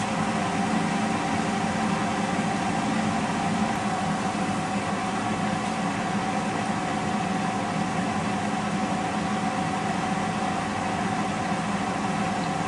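A Power Air Fryer XL runs steadily while cooking Ore-Ida tater tots, giving off a constant broadband fan whir with a low hum, unchanging and alone for the whole stretch.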